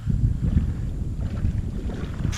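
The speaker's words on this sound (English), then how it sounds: "it's this wind. It's not fun." Wind gusts across a lake during kayak fishing, a continuous low buffeting rumble against the microphone with choppy water movement underneath, loud and close.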